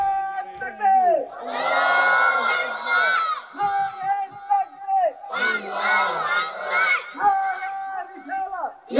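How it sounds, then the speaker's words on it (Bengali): A large crowd at a religious sermon gathering shouts a slogan in unison, loud and near, in several long roaring bursts with short pauses between them. "দুই হাত তুলে একটা স্লোগান দেন না রে।"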